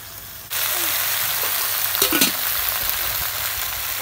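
Fresh river rohu fish and Malabar spinach hit hot oil in a pan and burst into a loud, steady sizzle, with a few stirring scrapes partway through and no talking.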